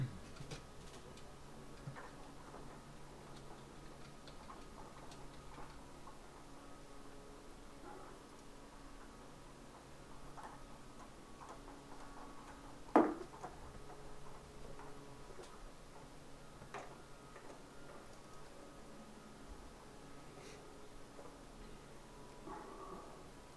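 A 14mm socket on a ratchet tightening the brake caliper of a Honda CBR 1000RR motorcycle, giving faint steady ticking clicks throughout with one sharper metallic snap partway through, quiet and close.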